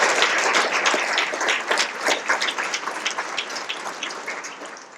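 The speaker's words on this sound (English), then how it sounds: "I think that deserves an incredible round of applause" Audience applause at a Salvation Army Red Kettle charity luncheon, a dense wash of many hands clapping that holds steady before gradually tapering off, with no talking over it.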